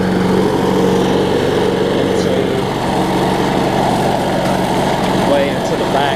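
An older Toro lawn mower engine runs steadily at close range, giving off a continuous loud buzzing drone while burning off heavy smoke after a carburetor reset.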